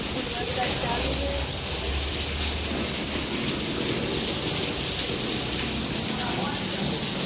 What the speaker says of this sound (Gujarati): બહાર ફૂલ વરસાદ ચાલુ છે.